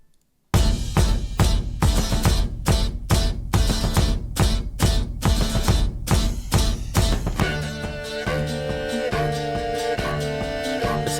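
Soundtrack music from The Witcher 3 video game, opening with a run of loud, sharp rhythmic hits that give way to sustained, layered instrumental tones, continuous and full throughout with no talking.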